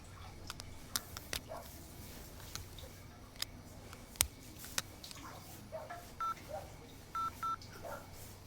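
Someone dials 100 for Telangana police on a phone keypad: three short, quiet electronic beeps near the end, after faint taps and light background noise.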